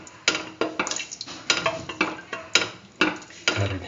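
Steady stirring of vermicelli in a pan for a peach coconut milk soup: a rhythmic series of about eight close spoon scrapes and clinks against metal, with a soft sizzle beneath and no talking.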